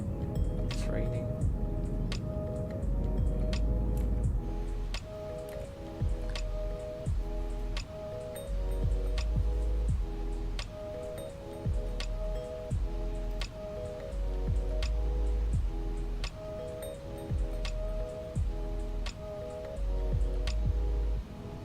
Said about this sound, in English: We have rain here.